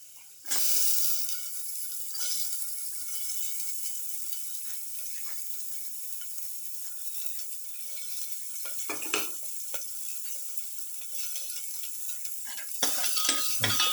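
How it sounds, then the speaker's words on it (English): Chopped shallot sizzles in a hot pan, starting with a sudden hiss as it goes in and continuing as a steady frying crackle, with occasional utensil clinks and stirring scrapes near the end. "Put in the shallot."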